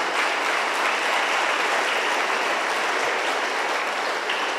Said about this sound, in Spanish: vamos a darles un gran aplauso a los jóvenes que se acaban de confirmar